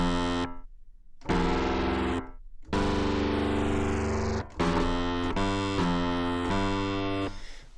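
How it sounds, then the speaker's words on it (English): Keys layered with a synth patch play a sequence of sustained chords and notes with short gaps between phrases, bright and buzzy, heard alone with no talking. "So I have some keys and a synth."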